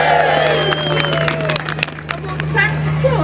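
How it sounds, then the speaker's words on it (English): An outdoor Clevedon crowd at a lights event gives a brief burst of cheering, scattered clapping and babbling voices, moderately loud over a constant low hum, fading slightly toward the end. "So I think we ought to have a great big cheer for Clevedon Pride."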